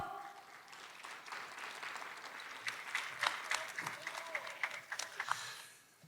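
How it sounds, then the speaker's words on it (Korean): At the opening ceremony of a 2021 social innovation festival in Ulsan, an audience applauds as the mayor comes to the stage, the clapping fairly faint and distant but building to sharper claps before fading. "여러분 큰 박수로 맞이해 주십시오"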